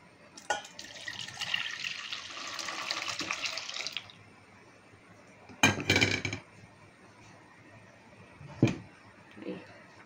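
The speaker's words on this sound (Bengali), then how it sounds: "এরপর এই দুধটা আমি এর মধ্যে ঢেলে দেবো।" Milk is poured into a bowl set inside an electric curd-making box, giving a steady liquid pour of about three seconds, followed by several brief clinks and knocks of dishes, with no talking over it.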